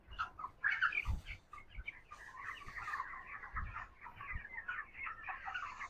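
Broiler chickens on a poultry farm cluck and chatter continuously at close range, with a denser burst of overlapping calls near the start.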